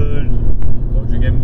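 A car engine roars loudly and steadily from inside the car on a road trip through Catalonia, with cruise control on, while someone talks over the constant engine drone.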